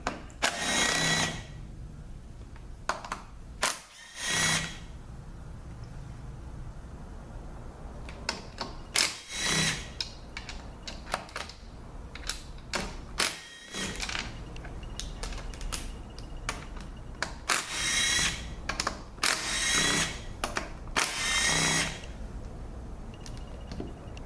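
A power tool backs Torx Plus bolts out of an 8L90 transmission case during a teardown, giving a series of short, sharp whirring bursts separated by quiet gaps. Some are close and loud, others lighter.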